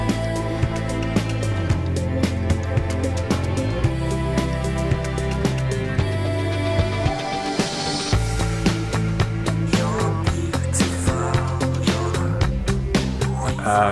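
An electronic song from around 2005 or 2006 plays continuously and loud, with a steady pulsing beat, layered synth chords and a deep bass line, with no talking over it.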